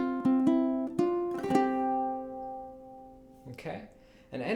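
A ukulele plays the first ending of a song: a few plucked notes ring out in sequence, then a sustained chord fades before quieter strums close it out, played close and alone.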